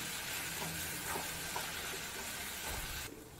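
Masala with a handful of mint leaves and asafoetida sautéing in a pan for a radish gravy gives off a steady, close sizzle and hiss that runs unbroken, then drops slightly at the end, with no talking.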